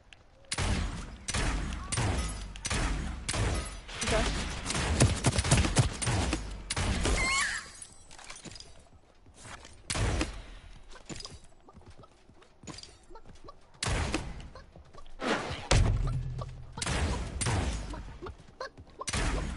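Light machine gun fire in a shooter video game: dense bursts of rapid shots across the first half, then scattered volleys and more bursts later, loud and close with quieter gaps between.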